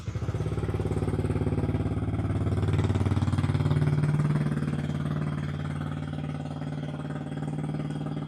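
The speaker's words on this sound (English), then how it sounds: "We run the bike for a few minutes." A Yamaha R125 motorcycle engine runs steadily at idle, a close, continuous low drone with a brief rise in pitch and loudness in the middle before settling back to a steady idle.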